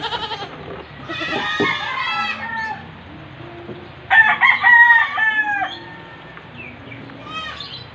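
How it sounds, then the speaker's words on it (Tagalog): A baby goat bleating on a farm among other livestock, its high wavering calls rising in two clear bursts over roosters and fowl clucking nearby, with faint voices in the background. "Hello baby kambing"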